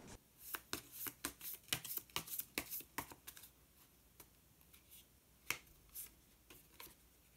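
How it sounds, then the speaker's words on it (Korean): Tarot cards are drawn from a deck during a reading, giving a quick run of close, crisp card snaps and flicks that then thin out to a few sharp isolated taps with no talking. "마법사 카드 한 장 더 뽑아보도록 하겠습니다"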